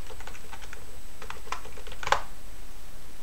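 Keys clatter on a computer keyboard as a root login and installer command are typed on Void Linux, a quick uneven run of close clicks with one sharper keystroke near the end.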